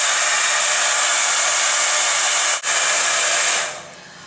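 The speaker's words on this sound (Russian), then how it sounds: "отделяю пальчиком небольшую прядку волос и подставляю под нее фен таким вот образом" Hair dryer held close under a small strand of hair near the scalp, blowing a loud, steady airy roar with a brief dip partway through, then tapering off as it is switched down.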